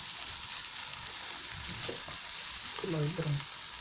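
A spicy chicken paratha fries in oil on a hot tawa, a steady close hiss and crackle of sizzling that swells slightly near the end, with a brief scrape and a faint voice underneath.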